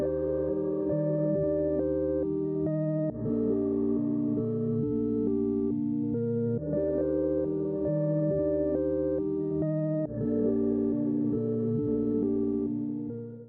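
Sustained layered synth keys play chords continuously in repeating phrases, run through high-pass and low-pass filters that smooth and thin the tone at the edges, loud with no voices.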